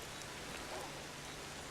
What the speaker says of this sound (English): I'll wait for the rain to stop.